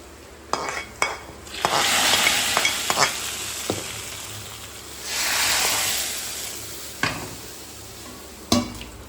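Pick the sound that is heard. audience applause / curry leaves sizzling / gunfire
curry leaves sizzling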